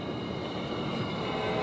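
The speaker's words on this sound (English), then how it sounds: "We're on our train ride." Continuous rumbling roar of a long train rolling along the rails near Findlay, Ohio, steady and fairly loud throughout with broadband low-end rumble and faint high whine, no talking.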